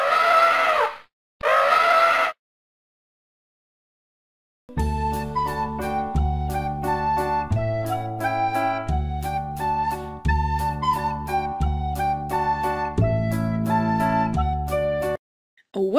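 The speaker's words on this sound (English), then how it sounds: "And what sound does the elephant make?" An elephant trumpets twice in quick succession, loud and close. A plinking melody with steady notes then takes over for the rest of the stretch.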